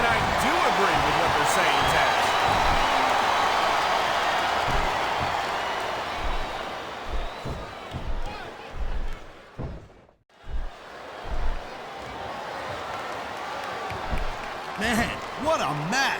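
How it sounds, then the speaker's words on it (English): A large wrestling arena crowd roars and cheers at a WWE No Way Out 2006 tag match, loud and sustained, dipping briefly midway before swelling again, with thuds from the ring and commentators talking over it. "I love hearing the crowd come alive"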